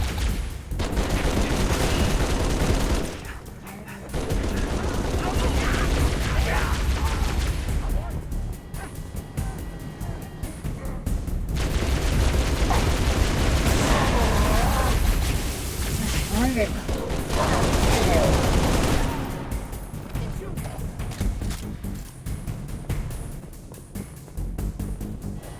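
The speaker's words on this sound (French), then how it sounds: "L'ennemi me tire dessus." Dense gunfire fills a Halo: Reach firefight, bursts of shooting mixed with explosions and game effects almost continuously, with a brief lull near the start and a softer stretch toward the end; voices talk over the battle.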